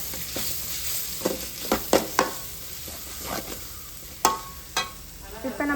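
Onions, tomatoes and coriander being stirred in a pan, with a steady soft sizzle and scattered sharp scraping clinks of the spoon against the pan, close and alone without talk.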